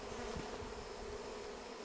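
Honeybees buzz steadily and faintly in a dense, continuous drone as a hive is installed on a ranch, with no voices.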